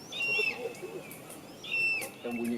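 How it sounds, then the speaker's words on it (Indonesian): Birds call in forest near Bogor, about 1000 m up, with clear whistled notes repeating in two bursts amid a faint bird chorus, while people talk nearby on a trail. "Enaknya di tengah jalan tuh bakal banyak ditemenin sama suara burung."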